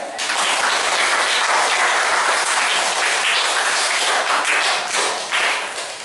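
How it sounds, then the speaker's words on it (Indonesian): Classroom applause for a student who answered correctly, a dense, steady wash of many hands clapping that holds for about six seconds without a break, with no voices rising above it. "Tepuk tangan untuk Anda."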